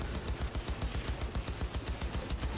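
Incendiary gunfire in the video game Cyberpunk 2077, a fast, even stream of thudding shots at a steady rhythm, loud and continuous throughout.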